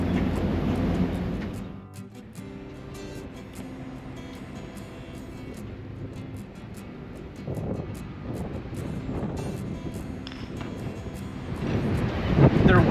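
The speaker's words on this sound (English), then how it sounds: "it's pretty windy" Wind buffeting the open deck of the Island Princess cruise ship in the Caribbean, a broad, rushing roar with gusts hitting the microphone, swelling louder near the start and end.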